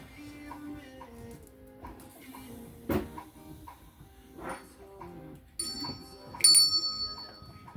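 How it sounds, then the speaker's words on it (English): A handheld bell rung before a tarot spread, a couple of bright metallic rings with a lingering tone near the end, preceded by soft handling knocks and light rustling. "Let me get my bell."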